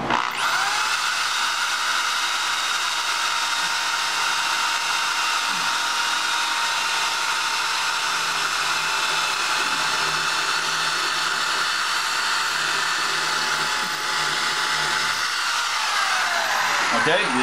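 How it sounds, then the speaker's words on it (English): A power drill whines loudly and continuously at a high pitch, holding steady for a long stretch before briefly tapering near the end. "Apply your weight into the drill, okay?"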